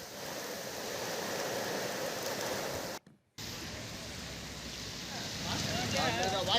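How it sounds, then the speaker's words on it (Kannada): Heavy rain and strong wind in Chikkaballapur during a storm that toppled an advertising banner, a steady loud roaring wash that cuts out briefly midway, with no one speaking. "ಮಳೆಗೆ ಗಾಳಿ ಎರಡೂ ಬಂತು"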